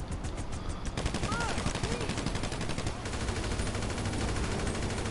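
Rapid bursts of automatic gunfire crackle in a video game played with keyboard and mouse, dense repeated shots for the first three seconds, then a steadier rattling mechanical drone continues.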